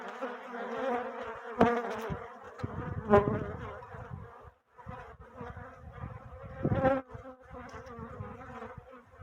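Honeybees buzz densely around an opened hive during a March frame inspection after winter, a close, continuous droning swarm that swells and dips, with no talking.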